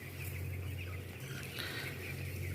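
Chickens in a colony rack coop cluck and murmur softly over a steady low hum, a few louder calls rising in the middle.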